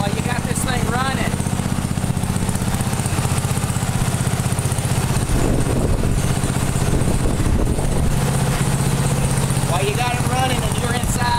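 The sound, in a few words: John Deere engine running at idle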